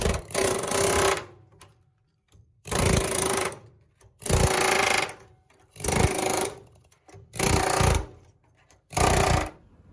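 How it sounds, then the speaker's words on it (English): Repeated bursts of a pneumatic air hammer rattling against the sheet-metal floor pan of a 1968 Pontiac Firebird, six roughly one-second runs separated by short pauses, close and loud. "I got the air hammering all done"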